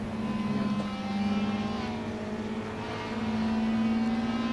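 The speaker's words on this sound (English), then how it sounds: "is it the Civic behind us making all the noise?" A Honda Civic race car in Assetto Corsa drones with a steady, buzzy engine hum that swells and eases slightly, heard from nearby without any talk.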